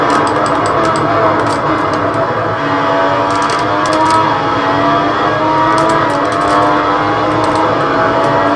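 Race car engines in the F1 2015 game on Xbox One drone steadily and loudly throughout, a continuous high-pitched whine with faint overlapping cars nearby and no talk.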